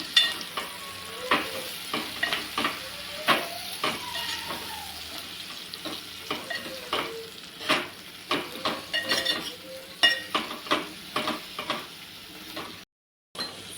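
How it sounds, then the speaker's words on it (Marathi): Green chillies with the seeds removed are sautéed in a pan, a low sizzle under repeated scraping stirs in an uneven rhythm. The sound cuts out briefly near the end. "तर या मिरच्या आपण याच्यामध्ये टाकून घेणार आहोत थोड्या परतून घेऊया"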